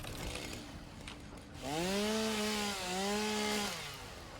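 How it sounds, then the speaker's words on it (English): A chainsaw in the Satisfactory video game revs up and runs steadily for a couple of seconds with a droning, pitch-wavering whine, loud and alone, then winds back down. "let's grab our chainsaw and clean this up a little bit."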